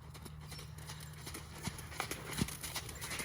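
Horse hooves trot on an arena surface during dressage training, a faint, steady two-beat clip-clop recorded at a distance with a low background hum.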